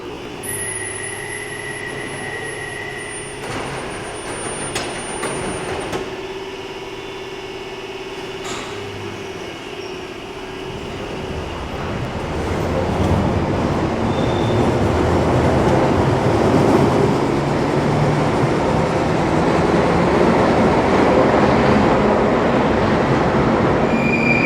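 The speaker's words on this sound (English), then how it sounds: "the 1972 stock is one of my favourite types of tube train" A London Underground 1972 stock tube train on the Bakerloo line starts with faint rumbling and squeals, then swells into a loud, continuous roar of wheels and motors as it runs through the tunnel.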